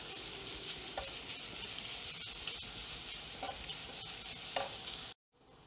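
Ginger and green chillies sauté in a pan for an Onam festival dish, giving a steady close-up sizzle with a few scraping stirs. The sound cuts off abruptly just before the end.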